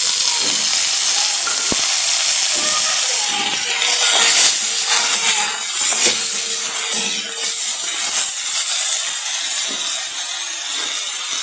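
Cut green mango drops into hot oil tempering for a raw mango chutney, setting off a loud, close, sustained sizzle that hisses and pulses unevenly throughout.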